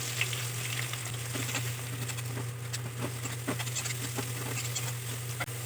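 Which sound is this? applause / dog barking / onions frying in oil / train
onions frying in oil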